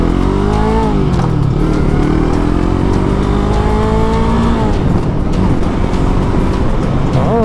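An FKM Expres 500 SC motorcycle accelerating hard on a test ride, its engine note loud and close, rising in pitch through the gears with a dip and a fresh climb midway.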